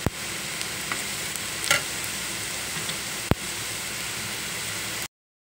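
Spice masala with coriander powder and red chilli powder frying in a pan for a potato sabzi, a steady broadband sizzle with a few sharp clicks and scrapes of stirring, close and continuous, no talk.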